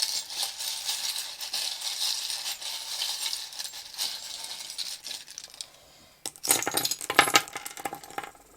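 Small metal charms clink and rattle continuously in a bowl, then a brief pause before a louder burst of jangling and tumbling, close up, with no voices.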